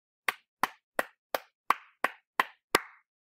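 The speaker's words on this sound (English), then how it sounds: "Let's try to clap the rhythm right here." Hands clapping eight sharp, evenly spaced claps in a steady rhythm during a music rhythm lesson, each one crisp and close with a short decay and silence in between, then stopping.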